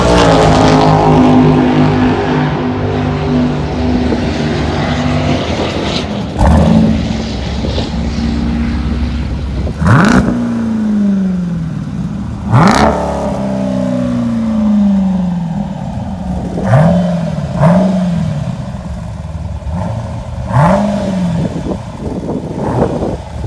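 A Dodge Durango SRT with a Borla cat-back exhaust revs repeatedly up close, a deep rumbling idle broken by several sharp throttle blips whose pitch rises and falls, loud and alone with no talking.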